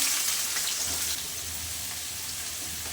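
Chopped onions dropped into hot oil with spices for chicken biryani, giving a loud, bright hiss that eases to a steady sizzle after about a second, and no voices.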